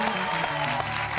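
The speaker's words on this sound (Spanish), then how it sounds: "Aplausómetro de la tribuna, por favor." Studio audience on a Spanish-language TV variety show applauding, dense continuous clapping filling the short moment at close, steady volume.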